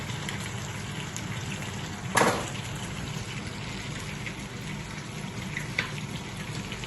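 Peppers, onion, garlic and ginger sizzle steadily in a pot for lamb stew, a constant frying hiss broken by one sharp splash as they are tossed in.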